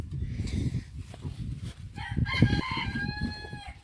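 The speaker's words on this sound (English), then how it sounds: "Angry chickens." Chickens in a summer garden squawk and cluck loudly at close range, with a drawn-out agitated crowing call rising partway through over steady clucking.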